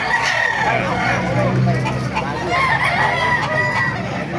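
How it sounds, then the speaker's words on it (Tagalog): A large rooster crows and hens cluck at a chicken market in Baliuag, Philippines, a busy, noisy setting with steady background chatter and commotion throughout. "Laking manok nito."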